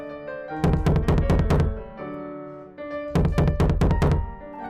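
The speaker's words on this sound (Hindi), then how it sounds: "नानी ने अलमारी का दरवाजा जोर से खटखटाया।" Loud knocking on a wooden cupboard door comes in two bursts of rapid, heavy raps, each about a second and a half long, close and resonant, with a short pause between them.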